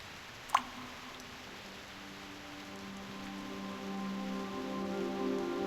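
Raindrops fall in the video game Reverse: 1999, a soft patter beginning with one sharp drip and followed by a gentle, swelling rain texture layered with faint tonal music.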